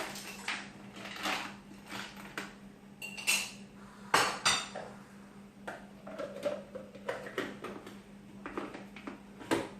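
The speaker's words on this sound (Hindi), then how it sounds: "इसके बाद मैं ये बर्फ ऐड कर दूंगी।" Hard clattering and clinking as about 1.5 cups of ice cubes tumble into a blender jar for a mixed fruit mocktail, in several quick bursts over a steady low hum.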